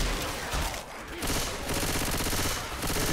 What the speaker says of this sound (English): Crouch, Dante, so I can shoot above you.